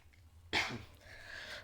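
A single sharp cough-like burst, close and abrupt, followed by a breathy exhale trailing off in a quiet room.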